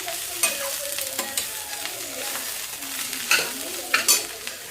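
A spoon stirs bitter gourd curry with sugar and salt in a sizzling pan, a steady close frying hiss broken by irregular scrapes and clinks of the utensil against the pan, with no talking.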